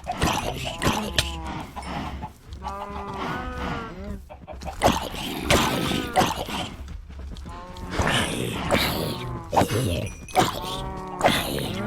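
Chickens in the Minecraft video game cluck in a string of short, tonal calls, bunched into bursts with brief pauses, fairly close and mixed with other game noises.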